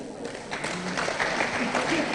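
Wedding guests applaud at a Rwandan wedding celebration, a steady, fairly close patter of clapping lasting a couple of seconds, with voices talking over it.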